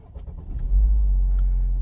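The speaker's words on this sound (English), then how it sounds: "Right, I'm going to turn on the car." A BMW car engine cranks and catches, rising from a short whirring start into a steady, close, low rumbling idle with no talk over it.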